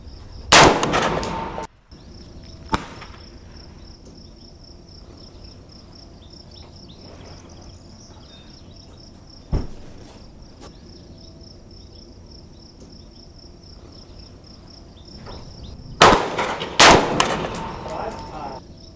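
AR-15 rifle shots fired outdoors, a tight burst of loud cracks at the start, one isolated shot midway, and another cluster near the end, with a steady insect chirp droning between them.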